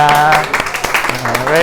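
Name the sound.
audience applause welcoming multi-ethnic guests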